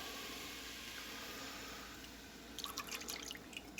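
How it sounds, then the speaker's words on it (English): Half and half poured into a pan for fettuccine Alfredo, a soft steady liquid hiss that breaks near the end into brief bright splashes and drips, faint and close, with no talking. "Alright, half and half being added."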